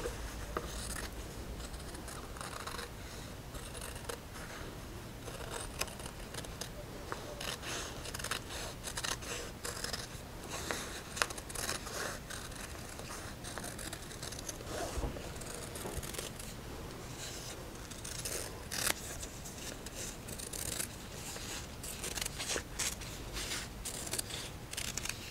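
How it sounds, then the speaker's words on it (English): Scissors cutting fabric for a quilted hat brim, a long run of close, rapid snipping and crisp shearing strokes in steady rhythm, with faint rustling of cloth and no talking. "And now we just need to cut out the brim."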